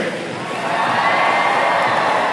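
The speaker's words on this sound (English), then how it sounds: "When he throws in the right direction, you are going to cheer." A large crowd cheers at a Savannah Bananas baseball game in Durham, North Carolina, a broad roar that swells and holds steady, loud and close throughout.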